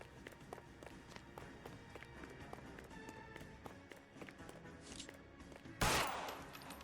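Rapid bursts of gunfire in the video game L.A. Noire over a busy game soundtrack, with a loud sharp blast near the end.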